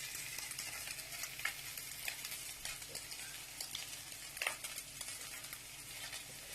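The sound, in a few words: Persian jeweled rice crust (tahdig) frying on high heat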